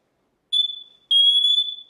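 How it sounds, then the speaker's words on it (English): A smoke and carbon monoxide detector alarm sounds two piercing high beeps, a short chirp followed by a longer sustained tone, close and alone. "this Sitterwell smoke and carbon monoxide detector"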